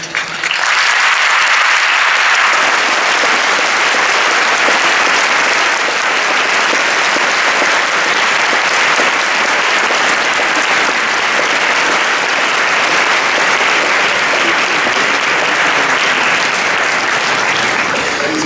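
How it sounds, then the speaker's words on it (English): A large audience gives a long, sustained round of applause after a moot court final hearing, a dense, loud, even wash of clapping that lasts the whole stretch with no talk over it. "I think the round of applause we've just heard demonstrates what an excellent hearing this was"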